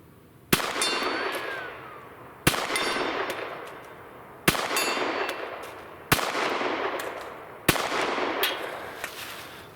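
Pistol shots from a Glock 19 and a CZ P10 C at targets ring out as five sharp, evenly spaced reports about two seconds apart, each with a metallic clang and a decaying echo.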